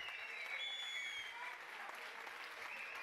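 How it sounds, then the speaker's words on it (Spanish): Applause from the audience at a Basque beatbox championship, steady clapping and crowd noise heard at a distance, fairly faint, with some cheering tones above it. "¡Fuerte aplauso aquí para los chavales!"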